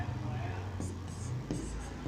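Chalk or marker strokes on a classroom board as the first grammar question is written, short scratchy bursts close by with a steady low hum underneath and no talking.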